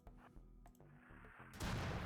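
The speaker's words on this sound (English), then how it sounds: "Oh, they are shooting mortars at us." Mortar fire in RimWorld, in a Star Wars clones-versus-droids battle: a few low muffled thumps, then a sudden loud, broad blast that rumbles on to the end.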